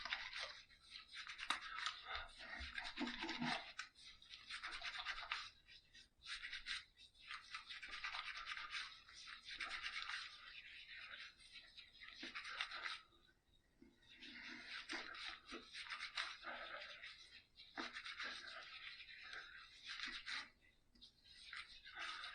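Safety razor with a premium shaving brush scraping through two days of stubble, a steady close raspy scratching in long bursts with brief pauses, no talking.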